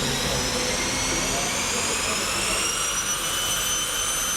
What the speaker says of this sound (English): it's time for the Dragster to do its demonstration run